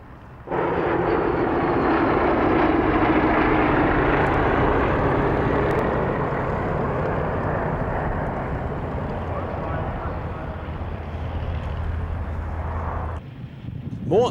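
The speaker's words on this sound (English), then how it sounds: "Next comes the smooth sound of three Bristol Mercury engines in the Blenheim and Gladiator." Three Bristol Mercury radial engines on a Blenheim and a Gladiator at an airshow, a steady, loud droning roar that holds continuously and fades slightly toward the end.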